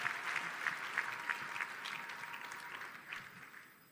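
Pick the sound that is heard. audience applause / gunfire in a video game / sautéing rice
audience applause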